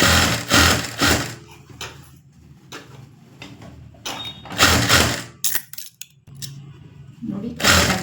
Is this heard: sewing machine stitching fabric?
yes